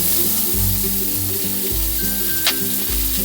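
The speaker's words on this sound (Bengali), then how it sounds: "এই টমেটোটা দেওয়ার পরেও আমি আরও একটু হালকা করে ভেজে নেব।" Onion and tomato frying in a pan, a steady close sizzle with soft rhythmic pulses of stirring and one brief scrape midway.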